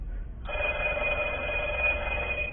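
A telephone rings with a steady, continuous electronic trill that starts after a brief pause and continues loudly without interruption.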